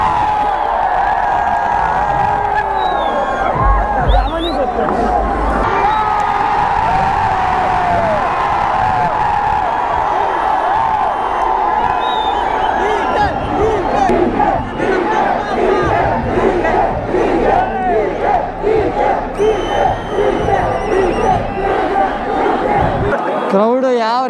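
A huge crowd of cricket fans roars and cheers continuously at the RCB Unbox event 2022 in a stadium, loud sustained shouting and whooping with rhythmic chant-like swells, a nearby voice talking over it.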